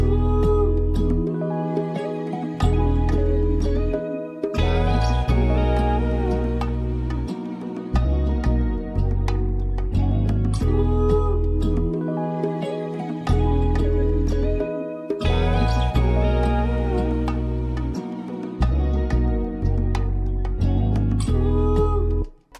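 A looping music track built around a cheap bass guitar and other guitar parts repeats its main section with a steady rhythm and deep, punchy bass notes, loud and without any voices.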